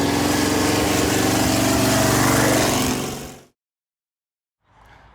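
A lifted Ford roadster gasser engine runs steadily and loudly up close, a thick mid-range rumble for about three seconds before it cuts to silence, then faint rustling returns.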